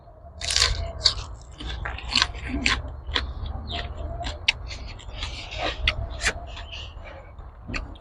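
Someone bites and chews crunchy food up close, with a steady run of loud, crisp crunches and crackles.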